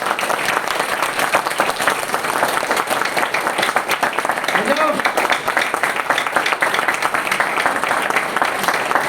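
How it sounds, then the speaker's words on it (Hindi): An audience at a Hindi-language talk applauds loudly and continuously, a dense wash of clapping lasting the whole stretch, with a voice briefly audible over it. "तो जोरदार तालियां होनी चाहिए, गुरु जी तक तालियां जानी चाहिए।"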